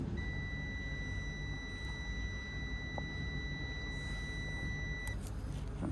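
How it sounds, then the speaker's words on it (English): A Hitachi DX225 excavator sounds a continuous high-pitched warning tone for about five seconds, steady and sustained over low engine rumble and outdoor noise, then cuts off. "That's beeping out all right."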